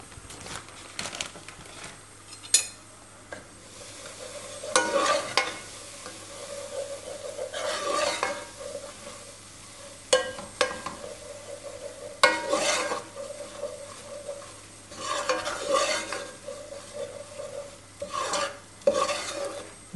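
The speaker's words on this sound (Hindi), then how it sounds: "इसमें मैं ये डाल दूँगी 2 से 3 टेबल स्पून मैदा और इसको भून लूँगी" Flour is roasted in about three tablespoons of oil and stirred in a pan, with dry scraping and rasping strokes that come in bursts over a low, steady hum and faint sizzle.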